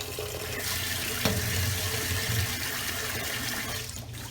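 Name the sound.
rinsing and draining rice with tap water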